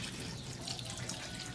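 Water pours steadily into a cooking pot of native chicken for adobo, a continuous splashing trickle close by with no voices.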